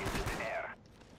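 A burst of rapid gunfire from the video game Black Ops on the Wii rattles out for under a second, then drops away into quiet background.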